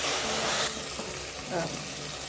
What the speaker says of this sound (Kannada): ನೀರುಳ್ಳಿ ಫ್ರೈ ಆಗಿದೆ ಸ್ನೇಹಿತರೆ